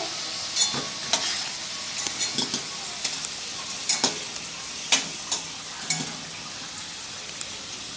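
Potatoes frying in a pan of hot oil give a steady sizzle, broken by several sharp scrapes and clinks as a utensil stirs them at uneven intervals, close and fairly quiet, with no talking.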